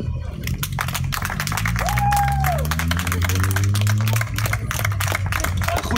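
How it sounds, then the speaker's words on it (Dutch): An audience at a street opening in Hoorn applauds and cheers, dense clapping running steadily throughout, with a tonal whistle-like sound and low droning underneath. "Ik vraag bij deze aan het publiek een groot applaus voor"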